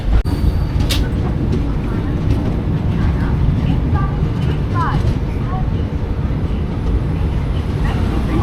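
A steady, loud rumble of a train fills Chandigarh railway station, with faint squeals and clanks over it and voices murmuring underneath.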